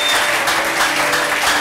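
A church congregation applauds loudly and steadily, a dense wash of many hands clapping together at close range, without a break for its short length.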